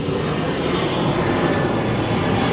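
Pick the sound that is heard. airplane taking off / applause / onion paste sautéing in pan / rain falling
airplane taking off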